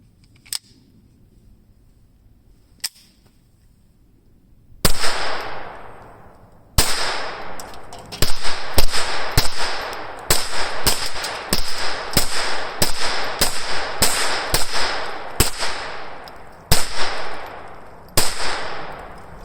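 A Taurus TX22 pistol fires at a line of cans, sharp loud shots in irregular bursts, some closely spaced and others spread out, after a couple of faint clicks at the start.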